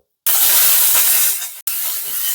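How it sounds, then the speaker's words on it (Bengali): Mangoes dropped into hot oil with cumin seeds, dried chili and a bay leaf give a sudden loud, close hiss and spitting sizzle that keeps going, cut for a moment and then resumed. "তেলের মধ্যে আমগুলো দিয়ে একটু হালকা নাড়াচাড়া করে দিচ্ছি"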